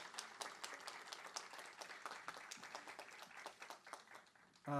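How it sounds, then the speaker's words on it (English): Applause from the audience at a university College of Education dean's scholars honors ceremony, a faint, distant patter of many hands with scattered individual claps, fairly steady throughout. "I just want to give a big round of applause to all of them."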